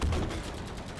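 Tank gun firing at a soldier in Battlefield 5, a burst of loud, rapid automatic shots that opens strongly and then trails off over about a second, with no voices.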